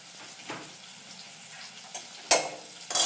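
Potatoes seasoned with salt, turmeric and chili fry quietly in a pan, a soft low sizzle broken by a few sharper bursts and clatters near the end, no one talking.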